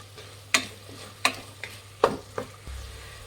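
Sliced green chillies are stirred in a pan of hot oil for veg biryani, with five sharp scraping strokes of a spoon against the pan spaced about a second apart over a soft, faint sizzle.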